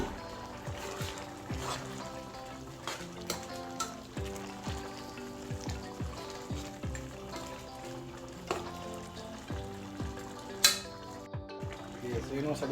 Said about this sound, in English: First, let me stir it before.